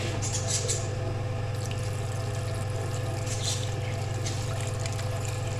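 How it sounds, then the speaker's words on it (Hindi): A glass of water pours into a pan of potatoes and moongre, a steady close splashing stream running throughout over a constant low hum, with no speech. "1 गिलास इसमें पानी ऐड करेंगे।"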